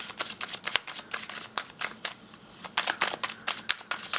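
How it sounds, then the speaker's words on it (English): An oracle card deck is shuffled by hand, a rapid series of crisp riffling and flicking bursts in an irregular rhythm, close and loud, with no talking. "I am shuffling for another oracle deck to see what it says here."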